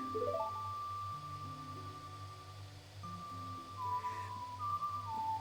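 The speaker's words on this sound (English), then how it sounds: "I want to learn how to be able to have my whistles echo like that" A whistled lullaby melody from the Ocarina of Time video game, clear rising and gliding notes ringing with an echo over a steady low sustained game soundtrack drone, no talking.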